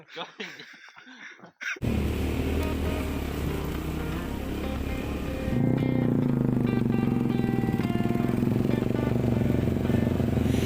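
Motorcycle climbing the Indrokilo hermitage trail on Gunung Ringgit in Prigen, a mountain path not meant for motor vehicles. Brief voices open the clip, then a loud, steady engine drone takes over and grows louder partway through.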